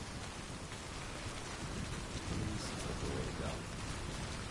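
Steady rain and gusting wind from the Death Stranding video game, a dense, continuous hiss filling the whole stretch with a slight swell midway, no voices over it.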